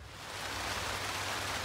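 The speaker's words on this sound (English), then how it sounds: "the rain is pouring down right now" Heavy rain pours down on a tent at a camp during the BC Bike Race, a dense steady hiss that swells in over the first moment and then holds without talk.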